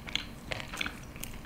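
Sweet potato fries are crunched during mukbang eating, with several close, crisp bites and chews scattered across the moment, quiet between crunches and without talk.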